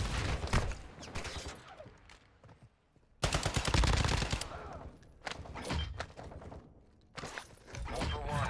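Bursts of automatic gunfire fired through a wall in Call of Duty DMZ, loud close volleys separated by pauses, with a player talking in between.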